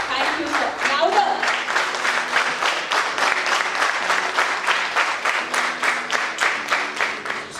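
Audience applause at a World Tai Chi and Qigong Day gathering in Mumbai, India: dense, steady clapping from a sizeable crowd, fairly loud and sustained throughout with no talk over it.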